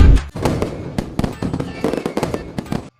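Recorded firecracker sounds for Diwali play from a voice-assistant speaker as loud, rapid crackling pops in quick bursts that stop abruptly.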